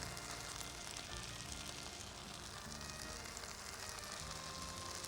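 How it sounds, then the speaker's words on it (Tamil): Fresh mint leaves are torn and dropped into hot oil in a home cooking pan, and a dense, steady sizzle hisses without pause throughout. "மீதி புதினா இலைகளை வந்து அப்படியே நல்லா கிள்ளி போட்டுருங்க"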